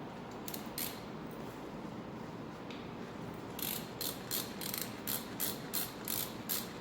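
A ratchet wrench tightens cylinder block bolts during a camshaft, valve lifter and rear gear housing installation on an engine, clicking in short quiet bursts, with a steady run of repeated strokes in the second half.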